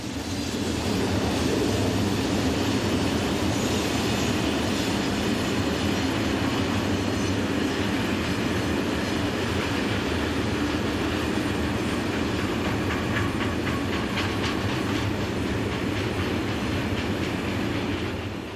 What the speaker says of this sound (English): four Class 460 electrics hauling this southbound freight